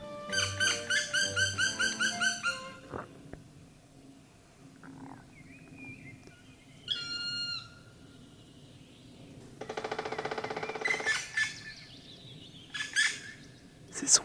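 A young black woodpecker calls in a large Eurasian forest with a run of repeated, evenly spaced bright notes. Further separate calls follow, some sharp and close, over quiet woodland.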